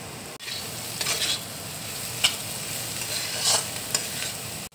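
Mung dal and paneer roll filling fries lightly in a pan, a gentle steady sizzle with a few soft stirring scrapes, close and fairly quiet with no voices.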